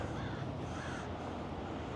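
A few clear crow caws ring out over a steady outdoor rumble of traffic by a shopping area under construction, moderately distant and no voices.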